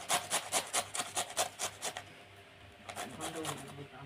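Dried raw mango is grated in a quick run of soft, rhythmic rasping strokes that pause briefly and then resume more faintly, heard close and quiet.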